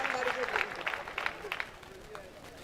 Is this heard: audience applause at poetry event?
yes